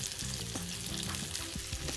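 Pork belly coated in curry paste frying in a pan, a dense continuous sizzle with light stirring or turning noises, heard close for a brief moment.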